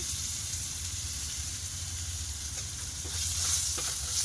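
Steady, close sizzling of chopped onion frying in hot oil after tengra fish has been fried, a continuous crackling hiss with no voices.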